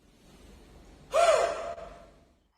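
A person taking a deep breath and then a forceful huffing exhale as part of a respiratory physiotherapy exercise: a quiet inhale followed by a loud, breathy half-second burst that trails off.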